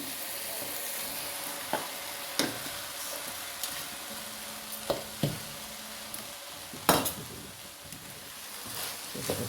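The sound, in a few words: stirring rice into masala in a frying pan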